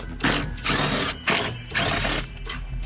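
Ratchet turning 10mm bolts that hold a driver's-side airbag on a BMW E46. Close, loud ratcheting comes in four rhythmic clicking bursts with short pauses between them, and no voices.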